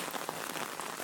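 Acid rain in the Fred Space video game patters steadily as a dense, even hiss of drops, close and continuous through the short moment, with no voices over it.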